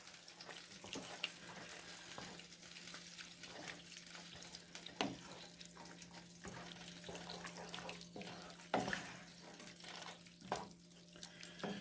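Vegetable broth poured and stirred into cream of mushroom soup, a steady watery rush with soft sloshing and a few clinks of the spoon against the pot, close and continuous without talk.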